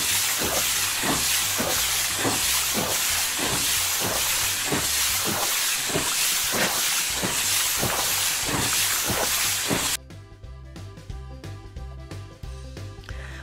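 A Playmobil Fireman Sam toy puts out a pretend fire at a Porsche garage with a loud, steady hiss pulsing in an even rhythm, which cuts off abruptly and gives way to music.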